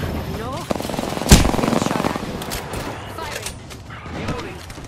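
Rapid automatic gunfire in the battle royale game Apex Legends, with a loud burst near the start and sustained firing afterward. A voice chatters and calls out under and between the shots.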